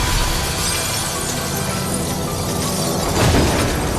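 A dramatized sound effect of a man collapsing and crashing to the floor: a thick, noisy rumble builds to one heavy, shattering impact near the end.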